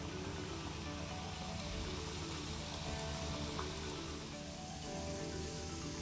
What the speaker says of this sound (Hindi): ये देखिए हमने अपनी चॉकलेट वाली गुजिया भी डाल दी है फ्राई होने के लिए।